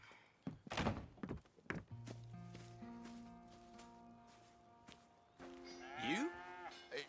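Cows lowing in a ranch barn in Red Dead Redemption 2, a few long, deep moos near and clear, mixed with thuds and shuffling hooves.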